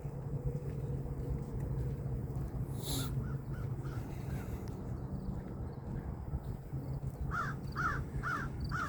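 Crows caw several times by the windy waterside, short harsh calls rising over a constant rush of wind and distant traffic rumble, with a burst of repeated caws near the end.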